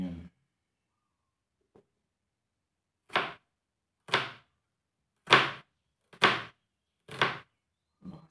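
Knife slicing through an onion on a cutting board, six crisp separate cuts spaced about a second apart, close and clear against near silence.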